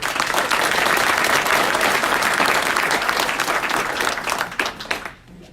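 An audience at an ELEVATE Investing Group event applauds speaker Dave Zook, with dense, loud, sustained clapping that carries on steadily and then thins out and fades near the end.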